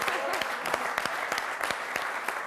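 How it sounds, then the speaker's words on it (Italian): A small audience at a comedy show claps with a dense patter of hands, with a few sharper individual claps standing out. The applause is moderately loud and continues for the whole short stretch. "applauso"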